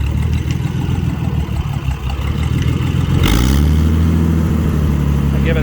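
A Massey Harris 102 tractor engine, running for the first time in ten years, chugs steadily and then is throttled up into a louder, rising rev near the close.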